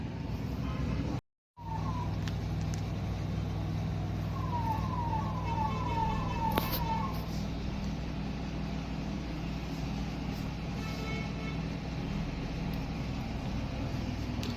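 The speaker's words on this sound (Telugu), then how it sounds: "ఇక్కడ కూడా ట్రాఫిక్ జామ్ ఉంది." Traffic jam on a Shillong street, a steady low rumble of idling vehicles with a brief siren-like wail partway through, moderately faint and continuous.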